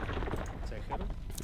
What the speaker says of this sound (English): Hand cannons over here from Jedi as well.